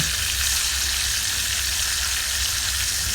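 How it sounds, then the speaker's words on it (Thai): Salted pork belly sizzles loudly and steadily in a frying pan, a constant crackling hiss with no talking. "วันนี้เรามาย่างหมูในกระทะกันค่ะ"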